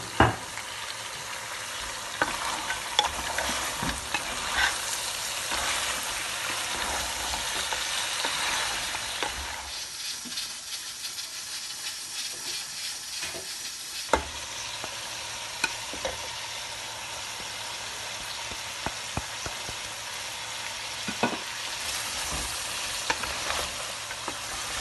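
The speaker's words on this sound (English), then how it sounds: "Now that your chops are slightly fried, I'm going to add all the tomatoes that I've cooked and kept on the side." Lamb chops frying for lamb karahi as cooked tomatoes are added and stirred in: a continuous loud hiss and sizzle that drops briefly when the tomatoes go in, with scraping and clinking stir sounds scattered throughout.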